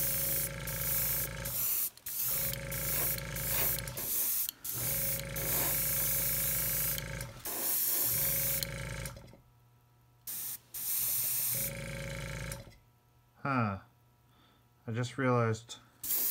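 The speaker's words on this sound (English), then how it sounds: "Right now I'm going to be spraying right at 30 psi" Spray gun laying down varnish on a miniature nuke model at 30 psi, a loud steady hiss in repeated bursts with short pauses, a brief voice heard between passes.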